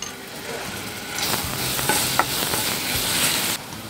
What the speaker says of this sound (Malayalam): നമ്മളെ ഓയിൽ ചൂടയുണ്ട്, അതിലേക്ക് 1 teaspoon വെളുത്തുള്ളി ആഡ് ചെയ്ത് കൊടുക്കുക.